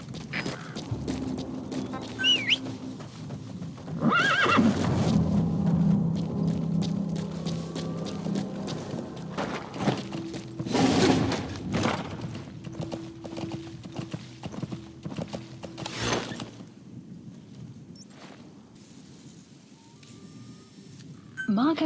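A horse in Metal Gear Solid V: The Phantom Pain clip-clops with rhythmic hoofbeats, mixed with game mechanisms, brief loud bursts and a faint whinny, while a voice speaks at times.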